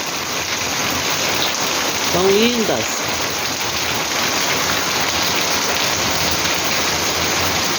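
Rain pours down on flowering phalaenopsis orchids in a steady, dense patter, with a brief voice speaking over it partway through.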